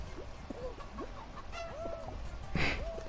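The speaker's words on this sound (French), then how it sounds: "La poule." A cartoon hen clucks in short, bouncy repeated calls in the Fall Guys video game, with a brighter squawk near the end, all loud and close with no talking over it.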